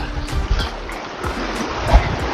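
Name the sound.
fast-flowing water current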